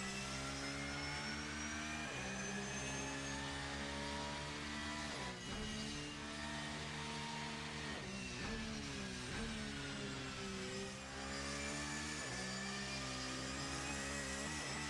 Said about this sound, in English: we can give a nice little listen here to that flat 6 engine in the back as it sings.